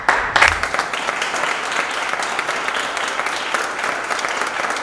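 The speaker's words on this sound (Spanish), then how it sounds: "Fuerte el aplauso" Steady applause from a crowd at an awards ceremony, dense clapping that holds at an even level throughout without pausing.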